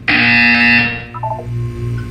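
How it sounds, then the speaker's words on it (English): A Portal 2 video game buzzer blares loud and shrill for about a second, then cuts off as a few short electronic tones and a low hum follow. "You will hear a buzzer."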